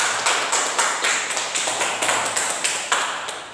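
A live audience claps steadily after a student presentation on a solar panel teaching aid, a dense wash of hand claps with a few sharp accents, fairly close and with no talk over it.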